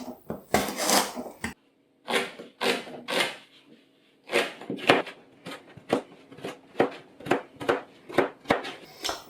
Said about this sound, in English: I'll chop the celery.